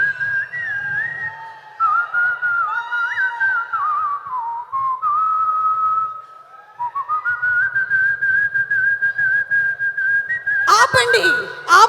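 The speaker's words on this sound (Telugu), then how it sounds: "అయినా ఈల కొట్టడం ఏంటి మీరు?" An audience whistles at a film pre-release event: long, loud, sliding shrill whistles that rise and fall, with crowd murmur underneath and a burst of cheering at the end.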